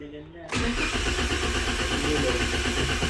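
A Toyota Avanza engine cranks and catches at about half a second, then settles into a steady, loud close-up idle, with talk in the background.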